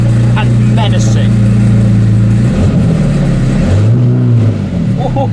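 A Zenvo TSR-S supercar engine fires up and revs loudly, its deep, raw roar holding steady before rising and falling through several blips, close and dominant throughout.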